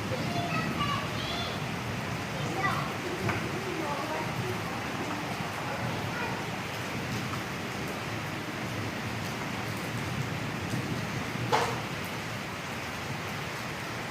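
A constant broadband wash of heavy storm rain in Pakistan pours steadily throughout, with faint voices murmuring beneath the downpour.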